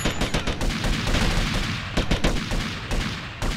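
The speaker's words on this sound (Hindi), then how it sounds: "किस जगह पे गोलियां मार रहे?" Rapid bursts of gunfire in the video game GTA Vice City crack repeatedly, some in quick automatic runs, loud and close, with brief gaps between volleys.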